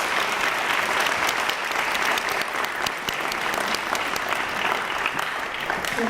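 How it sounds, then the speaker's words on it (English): Sustained audience applause at a 2018 middle and high school awards ceremony honoring students, a dense continuous wash of many hands clapping throughout, loud and steady with faint crowd murmur beneath. "Let's have one more round of applause for our outstanding students with perfect STAR scores."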